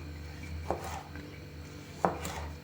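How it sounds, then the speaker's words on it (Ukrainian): A knife chops fresh cucumbers and tomatoes into large pieces on a board: two separate, crisp chops about a second apart, quiet and close, with no talking. "і нарізаємо ось такими великими кусками"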